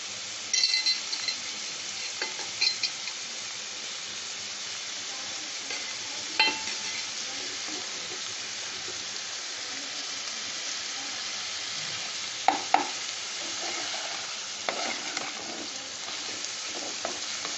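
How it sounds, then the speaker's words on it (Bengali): Rice sizzling as it fries in a pan with paneer for fried rice, a steady broadband hiss throughout with occasional clinks and scrapes of stirring, heard alone without talk. "এবার আমি এর সাথে চালটা দিয়ে খুব ভালো করে একটু ভাজবো, যেরকম পোলাওয়ের জন্য ভাজা হয় সেরকম।"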